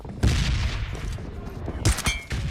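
Pistol gunfire in a video game crackles in a couple of sharp bursts, a quick volley near the start and another near the end, with no speech.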